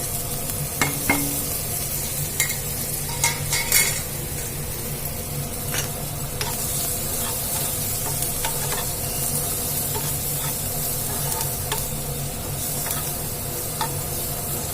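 Onion pieces frying in a pan with pepper powder, chaat masala, salt, chilli powder and spring onions, giving a constant close sizzle with repeated spoon scrapes and clinks against the pan.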